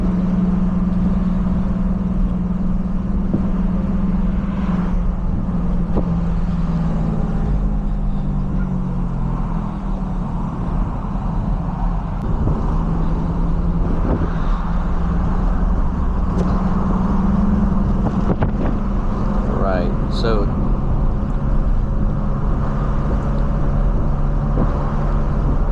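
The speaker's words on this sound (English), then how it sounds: "So driving in relative highway speeds, we're going about 50 miles an hour." 2001 Toyota MR2 Spyder, rear mid-engine, cruising at about 50 mph in fifth gear, heard from inside the cabin as a steady loud engine drone and road roar that holds evenly throughout with no talking.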